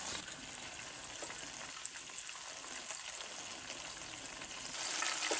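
Chicken frying in hot oil, a steady crackling hiss that holds at an even level and grows slightly louder and brighter at the very end; no speech.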